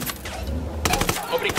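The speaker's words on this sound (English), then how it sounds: "Opening fire." Rapid automatic gunfire crackles in a Ghost Recon Wildlands firefight, a dense burst of close shots following a low rumble, with a voice briefly heard alongside.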